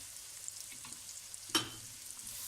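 Onion and garlic frying in oil after toasted nuts, a steady close sizzle with a brief louder hiss and spatter partway through as the pan is stirred, no talking.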